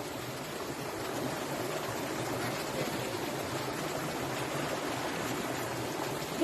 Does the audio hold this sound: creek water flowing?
yes